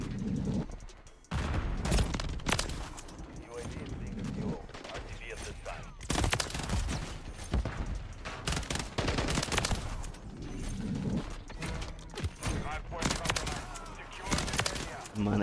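Dense, sustained gunfire from a Call of Duty match, rapid bursts and volleys rattling almost nonstop for the whole stretch with a brief lull near the start, loud and close with a voice speaking underneath.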